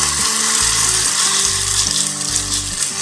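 Small pancakes frying in a pan oiled with a few spoons of oil for a crispy breakfast snack, over medium heat and uncovered. A continuous close hiss of frying carries throughout, with a low shifting hum underneath.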